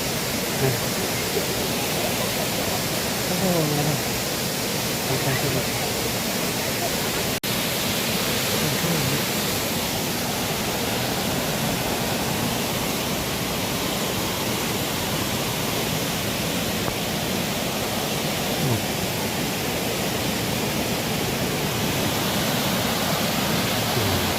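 A steady, loud roar of falling water from Huibang Falls on Sobaeksan, Korea, fills the whole stretch, unbroken and dense like a nearby waterfall, with no talking.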